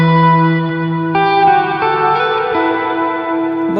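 An electric guitar played through a Meris MercuryX reverb pedal with its tube preamp on plays sustained notes and slow chord changes, drenched in lush reverb with a warm, slightly overdriven tone; each note rings and blooms into the next.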